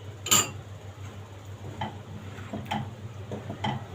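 A spoon stirs rice pudding thickened with starch in a pot, making light, sparse clinks and taps against the metal, with one sharper knock at the start and quiet scraping between strokes.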